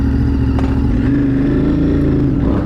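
A 2025 Honda Africa Twin motorcycle engine runs steadily up close, a loud, low rumbling drone that rises slightly in pitch as it revs and sets off.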